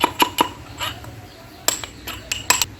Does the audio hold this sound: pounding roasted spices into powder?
yes